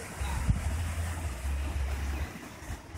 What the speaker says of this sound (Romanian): Aici e briza, ce simțiți, ce se aude în telefon, probabil.